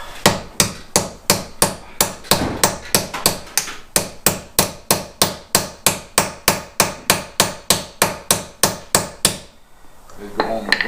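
A hammer beats on a socket during front suspension work on a Fox Body Ford 5.0 in a garage, delivering about two dozen sharp metallic strikes in an even, rapid rhythm, then stopping abruptly near the end.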